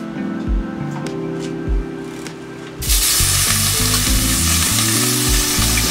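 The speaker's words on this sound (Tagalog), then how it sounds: "magdadagdag tayo ulit ng anato oil para sa ating chicken" Chicken fries in annatto oil for paella, a steady close sizzle that swells louder partway through, with music playing underneath.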